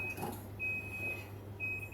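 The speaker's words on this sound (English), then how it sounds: "there goes the timer." A kitchen timer sounds in a cottage kitchen with thin, high beeps, one long tone broken into several pulses, faint against a low background hum.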